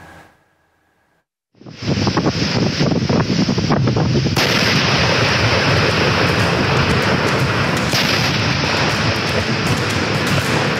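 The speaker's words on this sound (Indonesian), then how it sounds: "Ledakan dahsyat terjadi di Desa Sagara, Kabupaten Garut, Jawa Barat saat kegiatan pemusnahan amunisi tidak layak pakai oleh aparat militer." A powerful explosion from the destruction of unserviceable military ammunition in Sagara village, Garut, West Java, bursts in after a brief quiet start and swells into a loud, sustained roar and rumble that lasts to the end.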